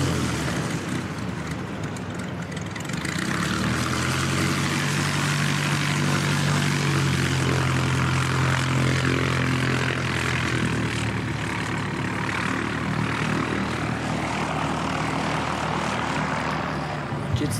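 A Jetstar airliner arriving at Christchurch Airport from Cairns passes with a loud, sustained jet roar and low engine drone that swells early and holds steady throughout.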